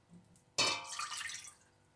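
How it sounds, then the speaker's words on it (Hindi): Just under half a glass of water splashes into a metal degchi cooking pot in one quick pour, a bright gush that trails off into a fading trickle. "देचकी में मैं ये आधा ग्लास पानी, आधे से थोड़ा कम ही है, पानी डालने लगी हूँ।"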